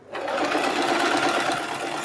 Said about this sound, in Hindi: इसको सीधा मोड़ते हैं और तब हम इस पर सिलाई लगाते हैं।